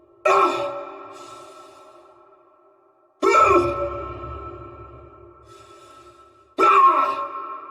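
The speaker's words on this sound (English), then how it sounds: "Exertions, such as melee and stomp, also played over top of the breathing rather than interrupt it." Character breathing and exertion sounds from the survival horror game Dead Space Remake: three loud, sharp strained exhalations, each trailing into a slowly fading breath, spaced about three seconds apart.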